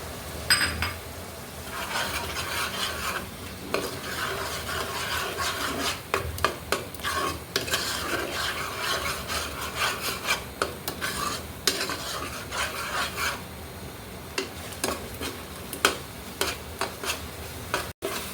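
Turmeric and chili powder being stir-fried for Punjabi chana masala: a spatula scrapes and rasps steadily through the thick spice mixture in a pan, with a low sizzle beneath and occasional sharper clicks of metal on the pan, no talking.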